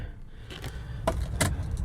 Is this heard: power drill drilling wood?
no